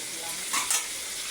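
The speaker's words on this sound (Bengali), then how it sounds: "এখন আমি আলু আর বেগুনগুলো একসাথে নেড়ে চেড়ে নেব মশলার সাথে।" Potatoes and eggplant tossed with spices in a frying pan for a Bengali pabda fish curry, a steady low sizzle with two brief louder scrapes of stirring near the middle.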